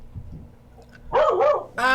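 A dog barking near a person on a video call, with faint low noises first, then two loud, close barks in quick succession, followed by a sharper, higher-pitched bark or yelp.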